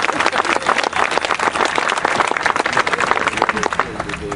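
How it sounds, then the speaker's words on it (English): An audience claps steadily throughout at a public dedication for the Beltline, a dense, loud wash of hand claps with a few voices mixed in. "we can clap for economic development"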